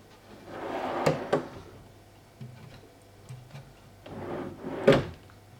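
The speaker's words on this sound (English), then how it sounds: "amazingly, the drawer works" A wooden drawer on a newly fitted custom insert slides open and shut twice, each pass a short sliding rub ending in a soft knock, close up in a quiet room.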